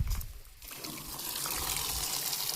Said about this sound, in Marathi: आपण पाणी चालू करूया आता